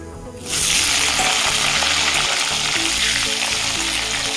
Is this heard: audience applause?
no